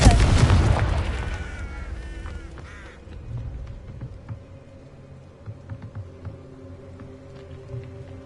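Confringo fire spell in Hogwarts Legacy on PS5: a loud fiery blast at the start with a ringing, crackling tail that decays over several seconds, then scattered low booms and rumbles of combat in the background.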